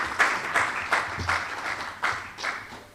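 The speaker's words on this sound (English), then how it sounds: "Please give him a round of applause so he feels excited." An audience at a Jamaican risk assessment tool launch applauds to welcome Dr. Hall to the stage, a modest, uneven clapping with a few louder bursts, moderately distant and fading toward the end.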